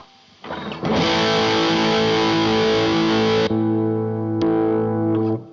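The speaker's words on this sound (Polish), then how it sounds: "chcecie przester, nie?" Electric guitar played through a distortion effect in a studio, sustaining a thick, buzzing chord for a few seconds, then a second ringing chord, loud and alone without talk.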